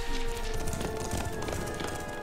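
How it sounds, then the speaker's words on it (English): Horse hooves galloping in The Witcher 3, a quick rhythmic clip-clop mixed with steady game music tones, moderately faint throughout. "This is how you ride a horse"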